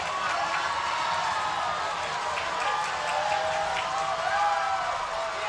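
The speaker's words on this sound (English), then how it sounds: "The crowd rose up and began cheering" Crowd cheering and applauding at a high school football game between the Hampton Crabbers and Phoebus Phantoms, a steady, dense roar of many voices holding loud throughout with a slight swell near the end.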